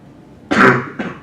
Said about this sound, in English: How's the cough?